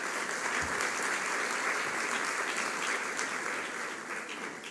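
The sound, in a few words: audience applause for panelists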